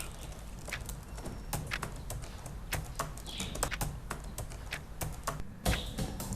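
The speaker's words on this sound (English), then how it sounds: "the tingling keyboard" Keys on a computer keyboard click and tap in quick, uneven bursts, close and steady over a low room hum, with no voices.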